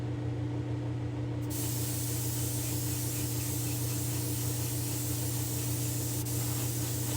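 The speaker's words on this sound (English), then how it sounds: "Okay, so I'm going to go spray this with silver." Steady, continuous aerosol spray hiss of silver paint onto a Hot Wheels car, running the whole time over a constant low mechanical hum, with a brief brighter burst near the start.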